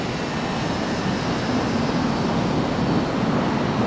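Jet airliner taking off in an air traffic control game, a steady, loud broadband engine roar holding constant throughout with no voices.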